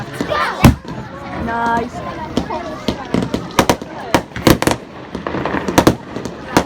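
Bonfire Night fireworks burst in a rapid, uneven series of loud close bangs and crackles, with people talking and a crowd murmuring between the blasts.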